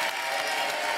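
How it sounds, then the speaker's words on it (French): Studio audience applause on a French TV dating show, a dense steady wash of clapping filling the whole second, fairly loud and close with no voices over it. "Et on vous applaudit."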